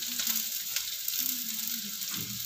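Garlic sizzles in hot oil in a pan, a steady broadband crackle continuing throughout with a faint low hum and a brief clatter near the end; no one speaks.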